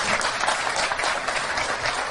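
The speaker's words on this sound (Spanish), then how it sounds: "Me gustaría ahora ir pidiendo un aplauso para cada uno de nuestros invitados" An audience applauds a guest at a talk event, with a steady wash of many hands clapping at moderate loudness for the whole moment.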